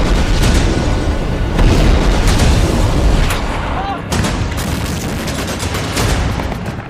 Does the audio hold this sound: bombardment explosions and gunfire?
yes